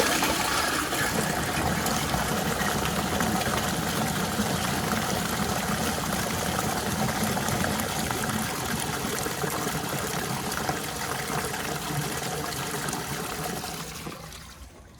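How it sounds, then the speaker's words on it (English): A Toto CT705 toilet flushes a washcloth and a grocery bag down its trapway, a loud, steady rush of water that carries on for about fourteen seconds before tapering off at the end. "So that's a washcloth and a grocery bag coming out of the trapway."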